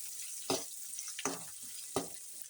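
Greens frying with green chili and onion in a hot pan, a soft continuous sizzle broken by three sharp stirring scrapes at regular intervals, close and fairly quiet with no talking.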